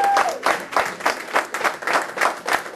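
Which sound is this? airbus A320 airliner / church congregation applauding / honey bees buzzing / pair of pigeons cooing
church congregation applauding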